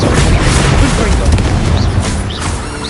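A Confringo fire-spell blast from the video game Hogwarts Legacy erupts as a loud, close boom with a crackling burst that fades over a few seconds, with a voice shouting over it.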